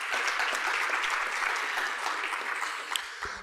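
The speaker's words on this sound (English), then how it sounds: "Let's give a round of applause again for all those recipients." An audience at an MLK Day celebration applauds award recipients, a dense, steady wash of many hands clapping for a few seconds, fading slightly toward the end.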